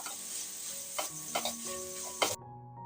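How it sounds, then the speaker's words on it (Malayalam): A mixture with tomato sauce being stirred in a pan, a soft steady sizzle with several distinct spoon strokes and scrapes at close range, ending abruptly. "ഇനി ഒന്ന് ഇളക്കി യോജിപ്പിച്ചു കൊടുക്കാം"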